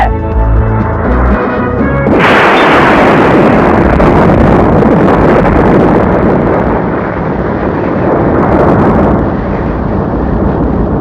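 A bomb explosion in the Tamil comedy film Kumbakarai Thangaiah bursts in suddenly after a stretch of music, a loud blast followed by a long, rumbling roar of debris that slowly fades.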